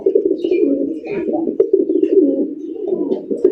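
Raj Golla pigeons cooing in a loft, a steady murmuring coo that runs nearly continuously throughout, with people talking over it.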